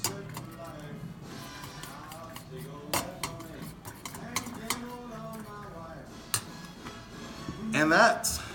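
A utensil stirs black pepper into cheddar cheese fondue in a pot, with repeated soft scraping and clinks close by, rising to a louder clatter near the end, and talk over parts of it.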